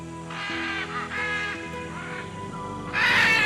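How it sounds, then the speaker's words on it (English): Loud harsh squawking cries of a Great Green Macaw high in the rainforest canopy, several raucous calls in close succession, the last burst the strongest. "the powerful, unmistakable cry of the Great Green Macaw"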